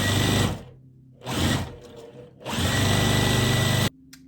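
Sewing machine stitching quilt block pieces for a Tula Pink butterfly quilt flying geese block, running in three close, loud bursts of rapid stitching separated by short pauses, with no talking.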